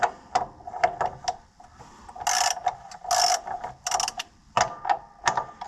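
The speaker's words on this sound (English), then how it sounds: "That's the sound of corn falling out of the bin." Dried corn trickling and rattling out of a storage bin, heard as a run of irregular clicking and clattering bursts, some sharp and others rushing, at close range with no talking.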